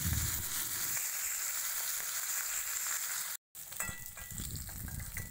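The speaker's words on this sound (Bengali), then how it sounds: "এবার অন্য পিঠ উল্টে ভালো করে ভেজে নেব" Fish frying in hot oil in a kadai, a steady dense sizzle and crackle that fills the whole stretch, close and loud, with one brief dropout near the end and no talking.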